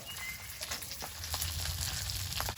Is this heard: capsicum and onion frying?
yes